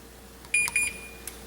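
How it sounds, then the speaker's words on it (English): Kitchen timer set for 20 minutes while a turkey tenderloin pot roast cooks on medium low, giving two short high electronic beeps close together and a faint third chirp a moment later, over quiet room hum. "We'll set our timer for 20 minutes just for giggles"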